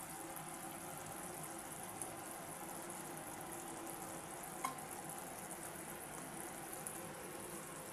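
Mustard oil hisses into a simmering pan of spicy shorputi fish curry (macher jhal), a steady close sizzle and bubbling frying noise that holds evenly throughout with one brief sharper crackle near the middle.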